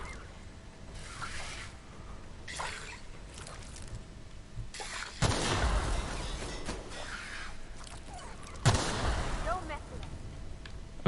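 Explosions go off in The Outer Worlds video game, two heavy booming bursts several seconds apart over an ongoing rumble of game sound, with someone talking quietly in between.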